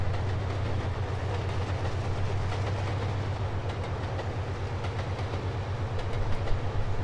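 A fast locomotive in a train simulator game runs along the rails with a steady low engine drone and rhythmic wheel clatter, continuous and fairly loud, swelling slightly near the end, with no talking.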